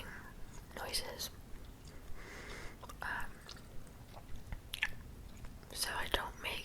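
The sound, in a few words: gum chewing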